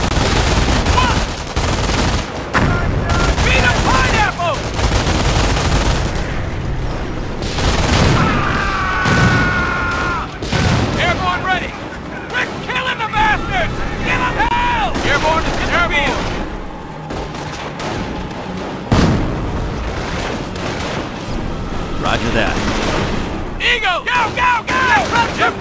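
Infantry battle in the video game Company of Heroes: sustained rifle and machine-gun fire with booming explosions, loud and continuous, interspersed with shouted soldier commands and radio voices throughout.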